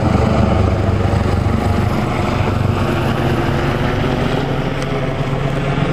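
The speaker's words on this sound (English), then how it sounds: "police helicopter hovering right over my head" Close, continuous rotor thrum and engine drone from a police helicopter hovering low overhead, loud and unbroken throughout with no talking.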